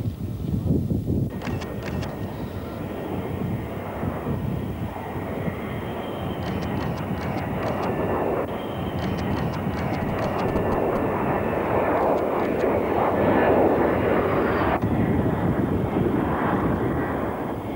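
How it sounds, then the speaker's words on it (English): B-2 stealth bomber coming in to land at Edwards Air Force Base, its jet engines giving a steady, broad rushing roar that swells slightly toward the end, heard from a moderate distance. "the B-2 should sound quite normal"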